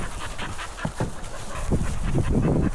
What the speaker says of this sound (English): This dog is the dog of the farm manager.